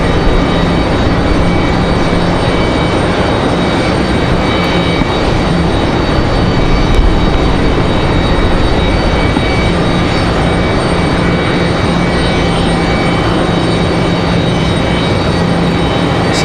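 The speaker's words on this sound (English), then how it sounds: "our American Airlines from London Heathrow touching down already" An American Airlines jet from London Heathrow touches down at Raleigh Durham International, a loud, steady broadband jet roar rolling on continuously and heard from a distance without speech.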